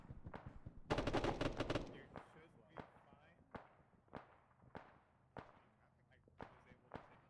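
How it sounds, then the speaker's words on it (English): Gunfire in the video game Arma 3: a dense burst of automatic fire followed by a spaced series of single sharp shots, fairly loud. "I heard gunfire and then nothing."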